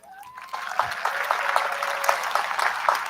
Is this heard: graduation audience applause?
yes